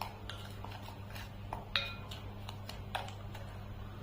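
Homemade Pitambari powder being mixed in a bowl, giving soft, scattered scrapes and a couple of light clinks of a utensil against the bowl, faint against a low steady hum.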